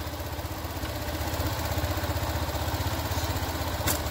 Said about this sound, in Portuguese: Liga o motor.